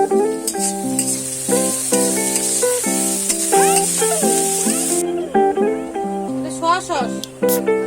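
Chopped onions frying in a pan for pasta, a steady high hiss of sizzling under loud background music that cuts off partway through.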